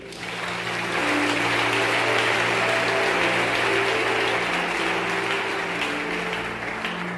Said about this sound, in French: Acclamons la Bible.